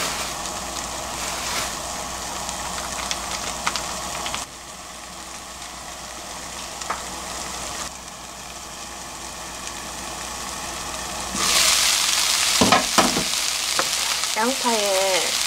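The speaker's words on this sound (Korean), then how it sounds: "양파를 살짝, 많이는 태워주지 말고요, 살짝만 이렇게 갈색지게 눌러줍니다" Sliced onions stir-frying in a pan for jjajang sauce: a steady broad sizzle, louder and brighter in the last few seconds as the heat rises, with scraping stirring strokes and no talking.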